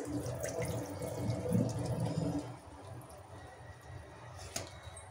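Rice being washed by hand in a vessel of water for chicken dum biryani, with wet swishing and sloshing that is louder early on, then softer drips and trickles near a sink or tap, and no talking.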